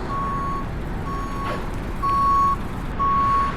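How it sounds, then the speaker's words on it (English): A vehicle backing up on a street in Geumcheon District, Seoul, sounds its reversing alarm: four evenly spaced, loud, high-pitched beeps close by over steady traffic rumble. "there's a guy backing up into us"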